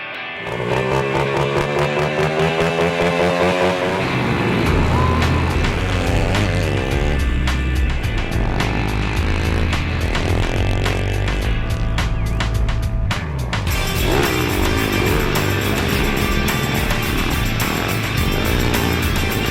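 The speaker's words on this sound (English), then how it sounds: "we saw there was a lot of activity around here with the pit bike" Pit bike engines at a pit bike event, loud and close, with a continuous high buzzing drone and revving pitch changes throughout.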